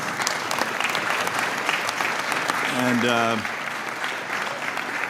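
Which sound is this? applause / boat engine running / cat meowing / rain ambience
applause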